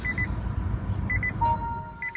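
Faint electronic beeps from a switched-off Nissan Leaf chirp in short clusters over a low rumbling background, with a brief steady tone partway through.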